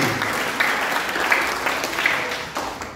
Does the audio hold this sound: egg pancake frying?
no